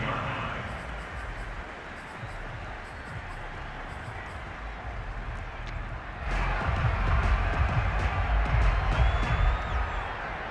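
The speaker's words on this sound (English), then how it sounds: "And the home crowd loves it." A home stadium crowd cheers in a football video game, a dense roar that carries on throughout and swells louder about halfway through, with a commentator talking over it.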